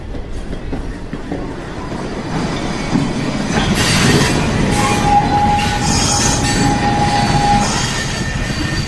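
A train rumbles along with rhythmic wheel clatter that swells louder midway, joined by a long thin squeal of wheels on the rails.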